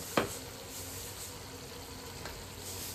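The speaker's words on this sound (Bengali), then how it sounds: "আর এদিকে চিকেনটাকে কষাচ্ছি।" Chicken frying and being stirred in a pan, a steady soft sizzle with a sharp scrape or clatter near the start and another faint stir later, no voices.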